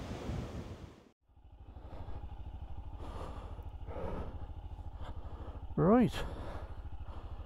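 Royal Enfield Scram motorcycle engine idling and running on a windy ride through Welsh lakes and mountains, a low steady thump that drops out briefly then resumes, with someone talking over it and wind gusting.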